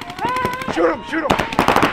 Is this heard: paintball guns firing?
yes